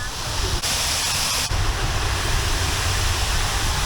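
Keila waterfall on the Keila river pours with a steady, dense roar of rushing water that holds evenly loud from start to finish.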